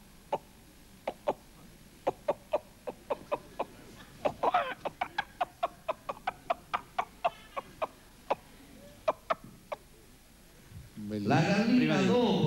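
A voice imitates a hen before laying an egg, giving a run of short, evenly spaced clucks with a few quicker bursts, followed by a louder drawn-out squawk at the end.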